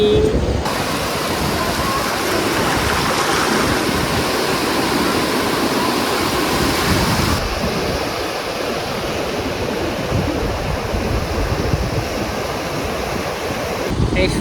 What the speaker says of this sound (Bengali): এই বিশাল সাগরের গর্জন ঢেউয়ের গর্জন তো রয়েছে